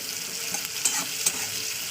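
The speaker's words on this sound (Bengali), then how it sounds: "তো দেখুন পেঁয়াজটাকে প্রথমে আমি লাল দিকে ভাজা করে নেবো।" Onion frying in a small amount of oil, a steady soft sizzle with a couple of sharp metallic stirring clinks, close and alone with no talk.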